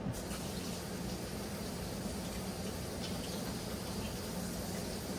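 Running water pours steadily as slimy, unsprouted rice is washed, a faint, even stream of flowing water with no breaks and no voices.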